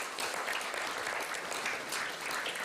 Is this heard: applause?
yes